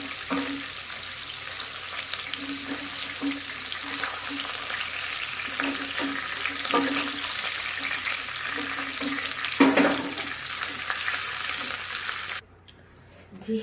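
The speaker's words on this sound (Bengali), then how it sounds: "মাছগুলো ভেজে নেব। মাছগুলোকে উল্টে দেবো।" Hilsa fish pieces frying in oil make a steady, close sizzle with light crackling throughout, ending briefly in near silence.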